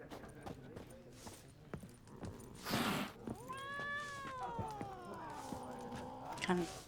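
A cat meows in The Witcher 3, one long, drawn-out meow rising and falling over about two seconds, after soft hoof clip-clops and footsteps, with faint talk in the background.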